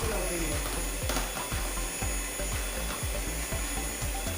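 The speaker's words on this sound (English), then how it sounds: "Continue whisking of the" Cream for homemade vanilla ice cream is whisked in a bowl, giving a regular, repetitive scraping and tapping rhythm that stays close and clear.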